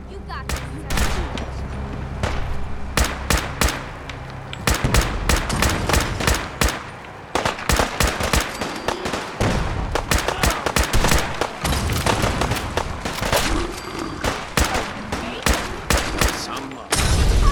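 Intense battle gunfire in Fallout 4: rapid volleys of rifle and automatic shots crackling nonstop for many seconds, loud and close, with sharp bursts and brief gaps between flurries.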